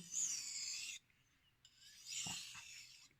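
A Kai DM0700 damascus kitchen knife is drawn across a Shapton whetstone in two long, steady rasping strokes separated by a brief pause, close and clear, with no talking.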